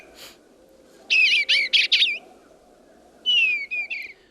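Bluebird song: two short bursts of clear, warbling whistled phrases, the first a run of four quick notes and the second three, fairly close over a soft, constant background hiss.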